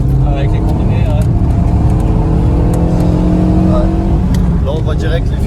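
A 2015 Renault Megane 3 RS phase 3 stage 1 pulls hard in the cabin, its engine note climbing in a loud, steady drone while occupants talk over it.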